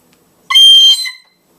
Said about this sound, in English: They took not the least notice of the shrill notes from a metal whistle.